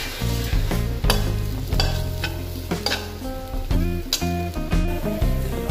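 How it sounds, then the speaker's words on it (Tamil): Rava idli batter being stirred in a pan with a spoon, giving loud, close scraping strokes in an uneven rhythm with a soft sizzle underneath and no talk. "நல்லா mix பண்ணி விட்டுக்கோங்க"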